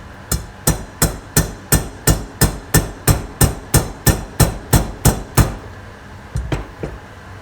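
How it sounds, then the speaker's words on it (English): A dead blow hammer strikes a dowel to drive an oil seal into a 1981 Yamaha G1 A2 golf cart, about fourteen sharp, evenly spaced, loud knocks, then a pause and a few softer taps. "Also using the dowel method and the dead blow."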